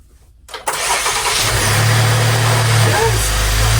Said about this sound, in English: Let's hop back in the vehicle and try to start it up.